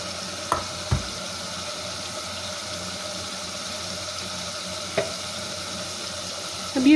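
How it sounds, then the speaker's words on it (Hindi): Ground spices for a mutton curry roast in a pan with a little added water, giving a faint, steady low sizzle broken by a few sharp clinks and a brief louder burst at the end. "यानी हमने मसाले को एक बार रफली भूनना है।"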